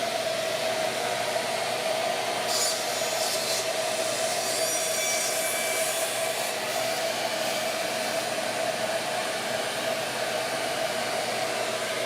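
A Shaper Origin handheld router cuts wood along the edge of a template, a steady high-pitched motor whine with a grinding cutting tone holding at even loudness for the whole stretch, with no voices.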